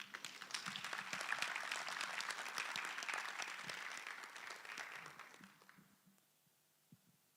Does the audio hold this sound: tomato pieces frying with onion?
no